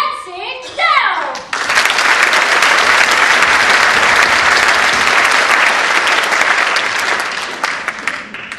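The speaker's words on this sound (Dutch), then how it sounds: "mag ik een groot applaus" Loud, dense applause from a crowd for a dance group's performance fills the clip after a brief burst of voices at the start, continuing steadily before tapering slightly.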